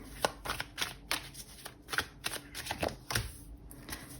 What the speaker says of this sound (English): I'm just going to keep on shuffling until I get the perfect card.